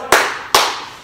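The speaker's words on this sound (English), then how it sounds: "and 2 claps" Two sharp hand claps in a kids' exercise class, spaced about half a second apart, crisp and close with a short room echo after each.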